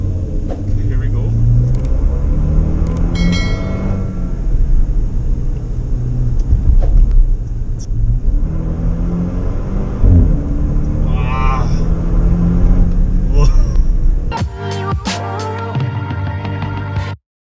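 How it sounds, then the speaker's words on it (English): A Maserati Levante Hybrid GT driven on city roads in Manila, its engine a steady low rumble that swells as it accelerates, with people talking over it throughout before a few sharp clicks near the end. "let's see how fast this car can go."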